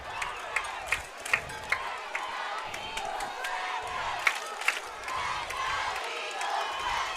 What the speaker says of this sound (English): you may be able to hear this crowd in the background